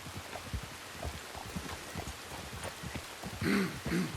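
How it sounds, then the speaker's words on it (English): Steady rainfall in the western video game Red Dead Redemption patters alongside soft hoof-like clip-clops and low rumbling, continuous and moderately close, with no speech. "Now it's going to rain here."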